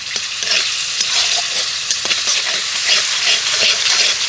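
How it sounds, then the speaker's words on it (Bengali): A spice paste with a splash of water fries in oil while being stirred hard, giving a loud continuous sizzle with frequent spoon scrapes and spattering crackles and no talking. "এবার এই মশলাটা আমি ভালো করে কষাবো যতক্ষণ না পর্যন্ত মশলা থেকে তেল ছেড়ে দিচ্ছে ততক্ষণ একটু কষাতে হবে"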